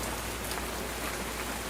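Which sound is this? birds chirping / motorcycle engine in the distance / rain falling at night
rain falling at night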